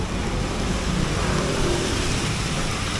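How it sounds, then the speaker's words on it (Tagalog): Heavy rain pours down steadily, a dense, continuous roar around a delivery driver's vehicle during a Makati-bound trip, with no one speaking. "Ang lakas ng ulan."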